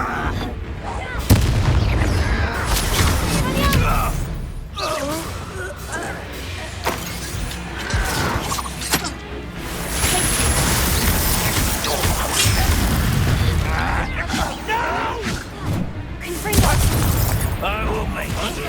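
Confringo spell explosions in Hogwarts Legacy, a rapid series of loud blasts and crashing bursts layered with shattering debris and battle noise, while voices speak over the action.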